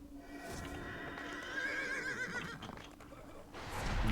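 A summoned horse in the online fantasy game DDO lets out a loud, drawn-out whinny that wavers up and down, followed by brief clip-clopping hoof sounds, with no speech.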